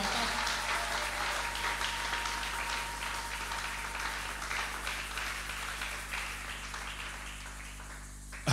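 A church congregation at a Sunday worship service breaks into sustained applause and clapping, a dense, fairly distant wash of hands that holds steady before tapering off at the end.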